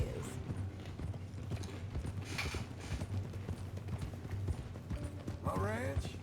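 Horse hooves clip-clop steadily in Red Dead Redemption 2, a mean-looking newly bought horse plodding under continuous male dialogue, with a creak and faint whinny-like sound near the end.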